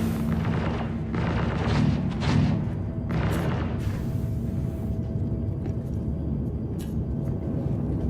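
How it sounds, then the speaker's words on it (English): Gunfire in the Star Citizen space game, a steady rumbling barrage of booming shots that runs continuously under a dense low roar, with a few sharper bursts standing out partway through. "who's shooting at us? Guns are firing."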